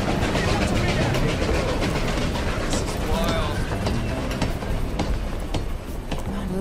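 A train in the video game Desperados 3 rumbles loudly and continuously with rattling, clattering bursts throughout, and voices are faintly present under the din.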